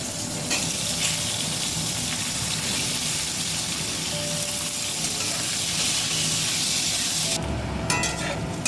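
Potatoes fry in hot oil, a loud continuous sizzle and hiss that holds steady throughout, with no talking.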